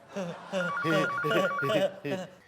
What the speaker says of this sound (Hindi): भाई फोन बज रहा है भाई।